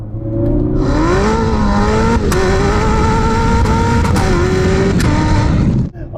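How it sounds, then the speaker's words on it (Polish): A 1200 hp hypercar revs hard and loud and close, its engine note climbing steadily, with sharp pop-like cracks at gear changes before the sound cuts off near the end. "jakby ktoś strzelał z pistoletu w czasie zmiany biegów"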